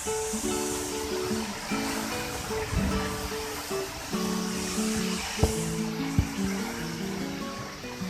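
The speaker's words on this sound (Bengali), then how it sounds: "প্রচন্ড ঝড় বৃষ্টি শুরু হয়েছে।" A heavy kalbaishakhi rain storm outside, with a dense, steady wash of rain and wind noise heard through an opened window and a few low thuds.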